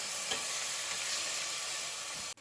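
Lobster cooking liquid poured into a hot pan for lobster thermidor, giving a steady close sizzle with a light stirring scrape, the hiss continuous for a couple of seconds before cutting off abruptly.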